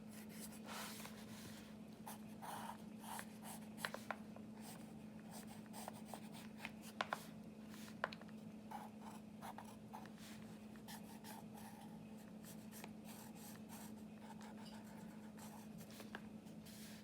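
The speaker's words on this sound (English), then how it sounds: "I'm drawing a pencil on here" A pencil drawing on paper in an altered book: quiet, continuous scratchy strokes and rubbing that come in short bursts, close to the microphone, over a low steady background hum, with no talking.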